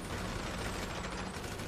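Dense, continuous gunfire crackles at a shooting range inside a bunker in Grand Theft Auto 5, a loud unbroken barrage of overlapping shots with no pause across the short stretch.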